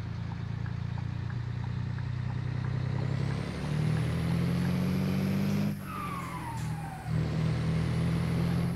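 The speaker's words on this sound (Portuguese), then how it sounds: "apaixonei nesse pente de turbina desse caminhão," A heavy truck in Euro Truck Simulator 2 rumbles steadily while its turbo whines in a rising, whistling sweep, followed by a sharp hiss like an air brake release.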